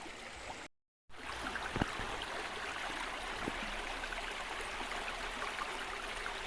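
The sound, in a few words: river water flowing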